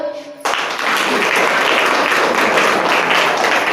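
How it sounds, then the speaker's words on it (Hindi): After a brief spoken moment, an audience of parents and guardians at a Chahak Balvatika school program bursts into loud, dense applause that continues steadily to the end. "ताली बजाओ"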